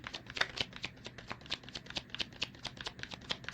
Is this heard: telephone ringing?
no